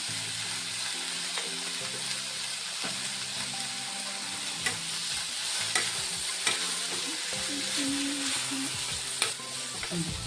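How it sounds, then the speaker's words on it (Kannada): Bitter gourd pieces stirred and fried in oil with turmeric, giving a steady close sizzle with repeated scraping and clinking of a spatula against the pan throughout, no voices. "ಸ್ವಲ್ಪ ಹೊತ್ತು ಎಣ್ಣೆಲಿ ಬೇಯರ್ ಬಿಟ್ಬಿಡೋಣ"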